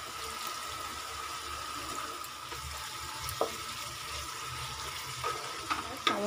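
Boiled cabbage with soy sauce stir-frying for vegetarian chowmein, a soft continuous sizzle with a few scraping stirs of the spatula, quiet and close.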